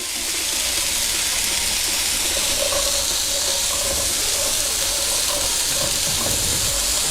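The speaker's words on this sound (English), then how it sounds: "Now we're going to drop our veggies into the skillet" Vegetables hit hot oil in a skillet and fry with a loud, steady hiss and sizzle that runs continuously close by, with no talking.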